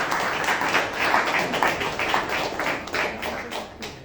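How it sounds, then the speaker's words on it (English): An audience applauds visitors from Slovenia, from Krater, an eco-social production space, at a Japanese Knotweed symposium. The clapping is steady and fairly dense throughout, with no talking over it. "And they came all the way from Slovenia, so extra big applause for them."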